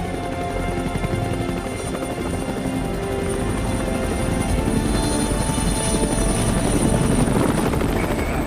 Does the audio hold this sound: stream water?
no